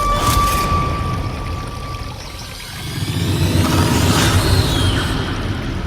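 Mountain stream flowing down beside a forest trail up to a temple, a steady broadband rush of water with a brief swelling whoosh midway, near and continuous with no voices.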